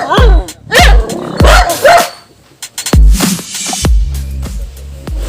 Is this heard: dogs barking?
yes